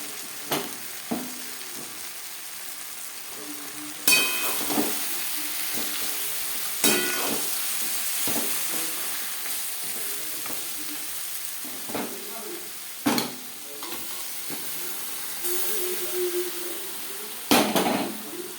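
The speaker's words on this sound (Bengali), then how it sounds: "ভাজা পেঁয়াজ ও টমেটোর সাথে চিকেন বেশ ভালো করে মিক্স করে দেবো" Marinated chicken stirred and fried with fried onion and tomato for chicken kosha, a steady sizzle with repeated scraping spoon strokes and occasional louder clanks against the pan, close and clear.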